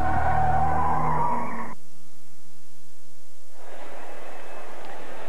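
A car brakes hard with tires skidding on pavement in an anti-lock brakes demonstration, a loud screech lasting over a second, a quiet gap, then a second long squealing skid.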